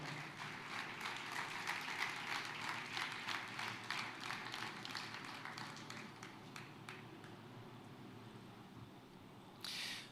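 A church congregation breaks into applause in praise of the Lord, a dense crackle of many hands clapping that tapers off and fades toward the end, heard from a distance with no voices over it.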